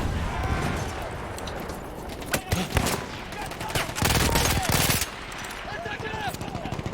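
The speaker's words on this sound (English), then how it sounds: "This is like an MG42 over here." A machine gun hammers out rapid sustained bursts in the Battlefield 1 campaign amid wartime battle noise and explosions, the heavy fire loud and close, while someone talks over the action.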